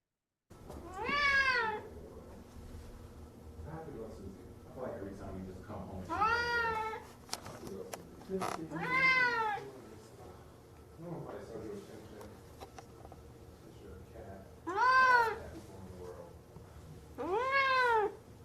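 Stressed cats at an animal shelter let out several loud, drawn-out meows at irregular intervals, with a person talking over and between the cries.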